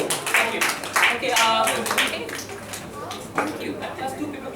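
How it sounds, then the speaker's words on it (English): Two people clap for a live magic show, a brief scattered patter of hand claps mixed with a steady murmur of voices and talk in the room. "That's two people clap for my show."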